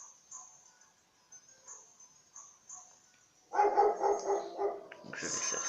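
A dog card in the Hearthstone video game barks: a few dog barks arrive after a stretch of soft game chimes, then blend into busier in-game sound effects at moderate volume.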